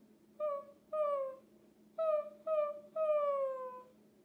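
A voice imitates a small puppy with five short, whiny yelps in quick bursts, each sliding downward in pitch, close and clear against a faint steady hum.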